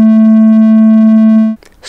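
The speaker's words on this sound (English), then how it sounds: "triangle wave," A steady synthesized tone with soft, hollow harmonics holds evenly for about a second and a half, then cuts off abruptly into brief noise.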